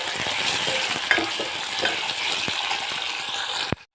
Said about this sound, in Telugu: పుదీనా, వీటిని బ్రౌన్ కలర్ వచ్చేంత వరకు ఫ్రై చేసుకోవాలి.